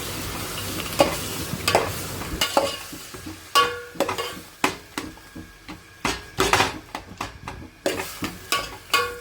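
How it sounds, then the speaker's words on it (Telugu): Tomatoes frying in a pan are stirred with a spoon, sizzling under repeated scraping and clacking strokes in an uneven rhythm, close up, with no one talking. "అందులో టమాటోస్ యాడ్ చేసుకోవాలి. టమాటోస్ని బాగా కలుపుకోవాలి."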